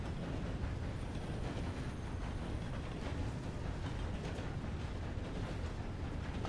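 A train rolling past in the Sundown RP game: a loud, steady low rumble and rattle that holds evenly throughout, close by and without speech.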